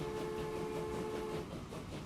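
A train in the video game Transport Fever 2 rumbles steadily and fairly close, with a sustained horn-like tone that cuts off partway through and a constant rolling rail noise underneath. No one talks.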